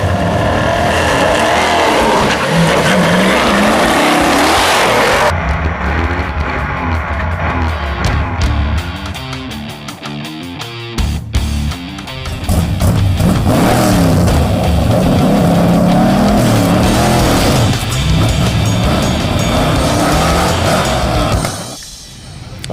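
An engine-tuned, bogging Chevrolet El Camino project car makes a drag strip run, its engine revving loud and close, roaring hard, dropping away briefly mid-run, then roaring again before cutting off near the end.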